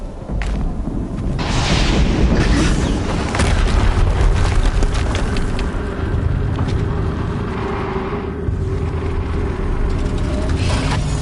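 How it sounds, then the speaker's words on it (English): Heavy rumbling explosions and booms in the video game Horizon Zero Dawn, a loud continuous roar of blasts and debris with sharp bursts layered over a deep low rumble. "Another explosion."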